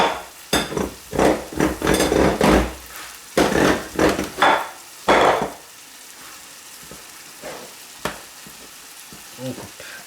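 A knife chops repeatedly through the pastry edge of an apple pie, giving a series of crisp, close cutting strokes in quick rhythm before a quieter stretch with a few faint taps.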